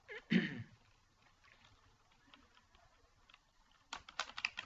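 Computer keyboard typing while writing in Microsoft Word, a brief clatter at the start, then quiet, then a fast burst of close key clicks at the end.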